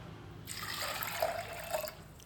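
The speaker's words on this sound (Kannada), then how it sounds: "ನೀರು ಹಾಕೋತಾ ಇದ್ದೀನಿ ಬೇಯಿಸ್ಕೊಳ್ಳೋದಕ್ಕೆ" Water is poured into a cooking pot holding cut chayote for sambar, a steady splashing fill that starts abruptly and runs for under two seconds, close and moderately loud, with no talk.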